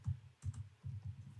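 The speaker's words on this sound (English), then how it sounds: "So I'll just type Bill Raymond" Typing on a computer keyboard comes in three short, quiet bursts of soft key clicks, each a quick rattle of several keystrokes separated by brief pauses. No voice is heard.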